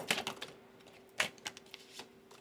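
Tarot cards shuffled by hand, a few quick crisp riffling and tapping bursts close up and fairly quiet, with short pauses between them.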